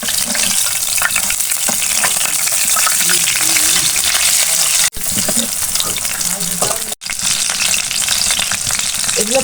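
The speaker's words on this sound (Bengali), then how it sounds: "এটা আমি এখন ফ্রাই করে নিয়ে আসবো" Marinated chicken pieces frying in hot oil, a steady loud close sizzle and crackle running throughout with two brief sharp dropouts.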